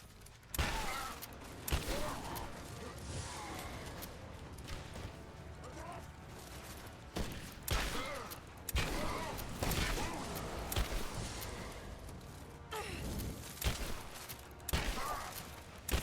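Gunfire from the Rise of the Tomb Raider video game, with several sharp, loud shotgun blasts scattered through a busy mix of game sounds and effects.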